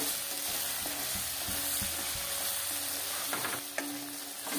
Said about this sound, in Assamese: আলু প্ৰায় ভাজা হৈ গৈছে।